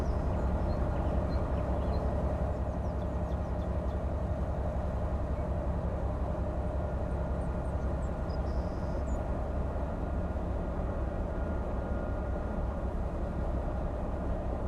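A long train rolling along in Train Life: A Railway Simulator gives off a steady, continuous low rumble and rail noise, constant in level with no speech over it.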